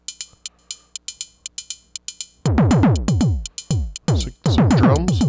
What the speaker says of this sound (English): Some drums.